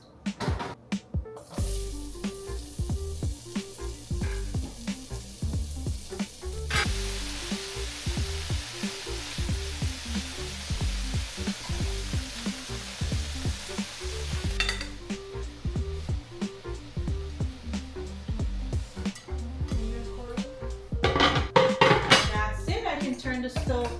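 Kale dropped into a very hot pot on a stove, giving a steady loud sizzle with scraping and clattering of utensil against the pot throughout, up close and without talk.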